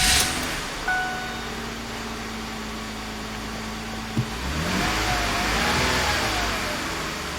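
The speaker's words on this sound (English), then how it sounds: "So the car is running and the check engine light remained on." A car engine with a cylinder misfire runs steadily at idle after starting, with a rough low rumble, a brief rev near the start and a faint whine toward the end; no voices.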